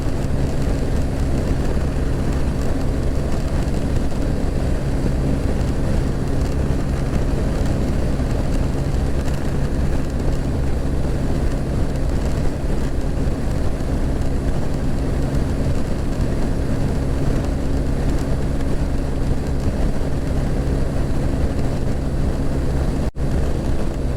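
A BMW R1250RT motorcycle cruising on a ride toward snow-capped mountains gives a steady, loud engine and wind roar with a constant low hum, unbroken for the whole stretch and with no talking.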